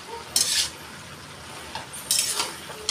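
Greens with turmeric, cumin and a little sugar are turned in a hot pan, two short bright bursts of scraping and stirring over a faint, steady background sizzle.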